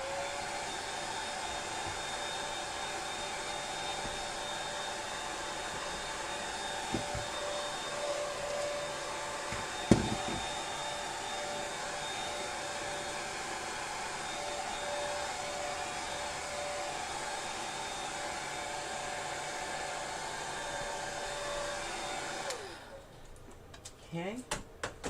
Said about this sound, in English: I'm going to dry it with the blow dryer.